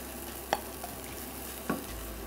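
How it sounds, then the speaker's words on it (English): Vegetables and garlic stir-frying in a Tefal wok with very little oil, a soft steady sizzle broken by two brief clacks of a utensil, quiet and without speech. "And we quickly cook through the vegetables"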